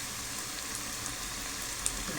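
Bhaji fritters frying in oil in a kadhai, a steady, dense sizzle that stays even throughout, close but fairly soft, with no voices.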